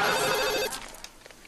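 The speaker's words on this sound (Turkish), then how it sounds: "Menekşe, telefon." A telephone rings with a steady trilling bell for about two-thirds of a second, then cuts off, leaving faint room noise.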